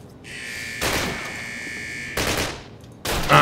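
Call of Duty gunfire comes in several loud, sustained bursts of rapid automatic fire with brief pauses between them, over a steady electronic drone.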